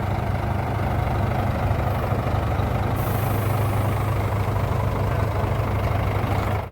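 A Borlindo intercity bus on the Palu–Makassar route idles with a steady, loud low rumble and constant hum that continues unchanged throughout, with no voices.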